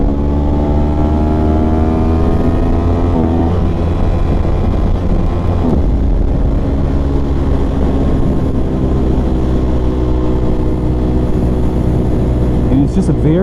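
A 2024 Aprilia RS660 with modifications, ridden in third gear: a loud, continuous engine drone with the pitch rising and falling as the rider works the throttle, over constant wind rush.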